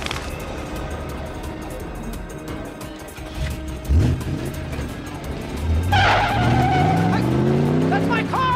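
A car drives off with tires skidding and squealing, the engine revving up in rising sweeps over a steady roar, as voices talk in the background.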